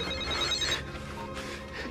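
A telephone bell rings in a German crime drama scene, one trilling burst followed by a short pause and the start of another, close and clear over faint room sound.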